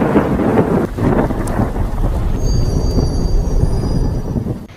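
Steady rain and rumbling thunder from a thunderstorm in a horror film, a dense continuous wash of falling rain with low rolling thunder throughout, loud and close, no voices.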